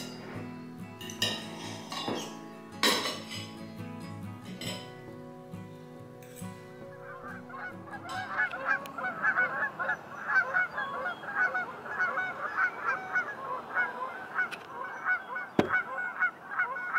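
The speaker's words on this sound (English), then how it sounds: "These are all Canadian geese. And they go south for the winter. They're loud." Canada geese honk loudly in a dense, overlapping chorus, coming in after some clinking of dishes and cutlery at the start and then carrying on steadily close by.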